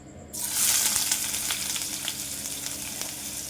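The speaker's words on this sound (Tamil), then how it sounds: "கடாயில் எண்ணெய் விட்டு கடுகு பொரிஞ்சிருக்கு. ஒரு வெங்காயம் வெட்டி சேர்த்துக்கலாம்." Sliced onion dropped into hot oil with popped mustard seeds in a kadai bursts into a loud, close sizzle that holds steady with small crackles, after a quieter moment at the start; no voices.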